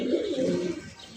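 A Lahori pigeon coos nearby in low, throaty rolling notes, a couple of soft swells with no voices over them.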